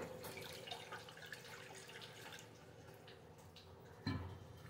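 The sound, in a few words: water being poured into a pot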